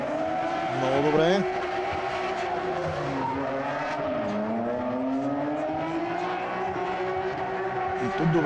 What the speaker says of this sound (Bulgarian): Много добра първа обиколка за Светослав Деков с номер 57.